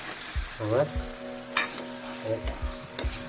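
Thick paste being stirred around a frying pan while vegetables cook for a fresh turmeric curry, with soft scraping strokes over a low sizzle and a few clinks of the spoon.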